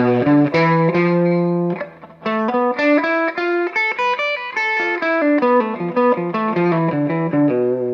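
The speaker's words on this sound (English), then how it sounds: "I'll play a blues scale. But I'll leave out the fifth and just keep the flatted fifth in there." Distorted electric guitar plays a blues scale with the flatted fifth and no natural fifth, single sustained notes, loud and up close, stepping up and back down with a brief pause early on.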